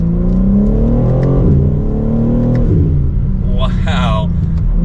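A 2024 BMW M3 Competition sedan in M mode, its engine note climbing steadily and loud under light throttle, with a brief whoosh near the end and a person talking over it.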